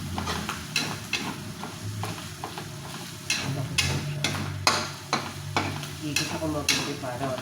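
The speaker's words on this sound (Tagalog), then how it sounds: "ikikisa na po natin siya sa sarili ng mantika" Garlic and onion sizzle steadily in hot cooking oil in a pan, with repeated clinks and scrapes of a stirring utensil over a continuous frying hiss, close and fairly loud.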